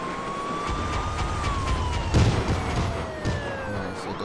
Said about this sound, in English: Cool, I got the sirens.